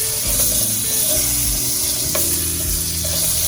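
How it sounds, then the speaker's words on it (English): Butter sizzles in a hot pot over leftover seasonings, a continuous loud frying hiss with stirring scrapes, steady and close throughout with no talking. "so to this pot, you're gonna go ahead and add some butter"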